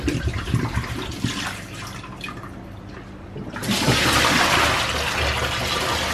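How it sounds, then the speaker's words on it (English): Water pours steadily into a home beer brewing vessel, rising into a louder continuous rushing splash partway through, with no voices. "we pour all the water in."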